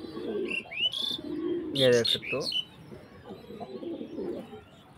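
Pigeons coo low and steadily through the clip, with high chirps and a brief louder flutter of calls near the middle, all under someone speaking nearby.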